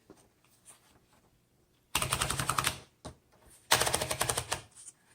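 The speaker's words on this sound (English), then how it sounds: "let's go ahead and load a piece of paper and do some typing" A 1935 Royal Model O vintage typewriter types in two rapid bursts of sharp mechanical key strikes, each lasting about a second, close and clear, with a few isolated clacks in the quieter stretches between.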